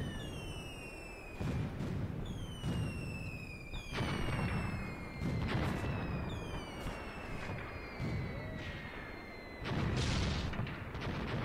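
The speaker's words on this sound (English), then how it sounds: "luckily that was only after I called in this artillery" Artillery barrage in Graviteam Tactics, heavy booming impacts landing in repeated bursts about every two seconds over steady low rumble, with whistling shells sliding downward overhead between blasts.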